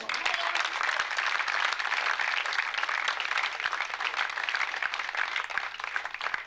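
A speedway crowd at Wimborne Road, Poole, applauds a new rider from the Oxford Cheetahs, a dense wash of clapping with scattered cheers that stays full and steady throughout.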